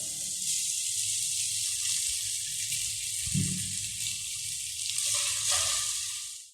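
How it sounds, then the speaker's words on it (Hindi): Chicken frying in four to five tablespoons of hot oil in a pan, a loud continuous sizzle with a brief thump and some stirring scrapes partway through, fading out at the end. "हमने जस्ट 4 से 5 टेबल स्पून ऑयल डाला है। इसमें सबसे पहले हम चिकन डालेंगे।"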